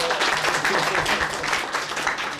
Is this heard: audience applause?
yes